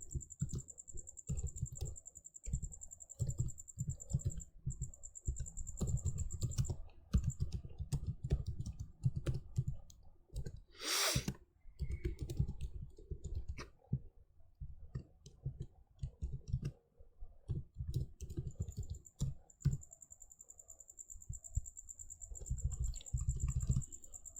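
Keyboard typing while writing C++ code in the Dev C++ editor, with steady rapid key clicks in bursts across the whole span and a brief louder burst midway; no voices.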